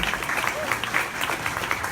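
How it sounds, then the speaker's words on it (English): Audience applause at an awards ceremony for an endurance horse ride, a dense, steady wash of many hands clapping throughout, fairly loud and continuous. "They deserve a huge round of applause as well."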